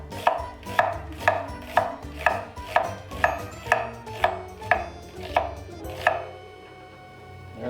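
A knife chopping vegetables on a cutting board for pickles, with about a dozen evenly spaced, crisp chops at close range that stop near the end, and no voices.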